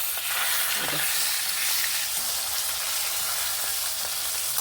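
Rohu fish pieces frying in oil in a pan over a wood fire, a loud, dense and continuous close sizzle with faint crackle, no voices.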